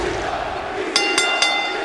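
Wrestling arena crowd in WWE 2K25 at an ECW One Night Stand ladder match, a steady loud roar of cheering throughout with three bright metallic bell rings cutting through near the end.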